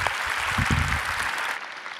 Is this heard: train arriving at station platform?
no